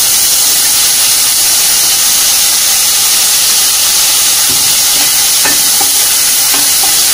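Tomatoes and onions sautéing in a pan for papad curry give a loud, constant hiss with a few faint stirring knocks near the end and no speech.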